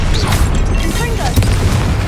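Confringo, the blasting fire spell in Hogwarts Legacy, goes off as a heavy booming crash amid steady, loud in-game clatter and rumble.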